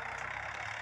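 A tractor engine runs steadily while ploughing a field in summer, a continuous mid-to-low rumble with a regular low pulse, close and loud throughout the short stretch.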